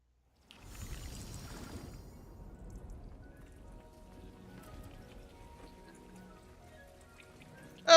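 Rain falling in the video game Hogwarts Legacy: a soft, steady patter of drops on surfaces that starts abruptly and continues faintly, with a sharp sound right at the end.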